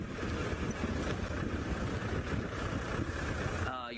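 Strong gusting wind from a storm buffets the microphone steadily and loudly throughout, a continuous low roar with no break.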